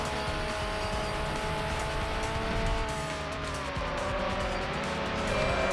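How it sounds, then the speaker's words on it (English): Simulated race car engine from Need for Speed: Hot Pursuit 2 on the Xbox, a steady loud drone with shifting pitch and faint tire squeal, continuous with no talk. "really solid engine noise, good sound design"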